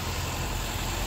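A D-segment sedan's engine idles smoothly and quietly, a steady low hum blended with broadband outside noise, with no talk.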